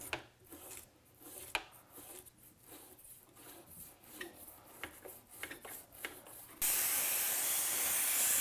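Cleaner sprayed onto the back wall of a moldy Midea window air conditioner, still mounted in the window: quiet rubbing and clicking give way to a loud, steady, close spray hiss that runs to the end.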